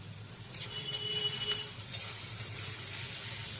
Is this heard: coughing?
no